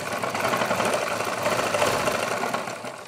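A sewing machine stitches dori cord piping onto a princess-cut garment, running steadily and close at an even pace for the whole stretch with no talking.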